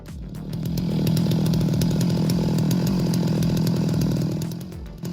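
Chainsaw cutting trees for firewood at a logging and firewood processing site, a loud, steady buzzing roar that ramps up, holds high for several seconds, then eases off near the end.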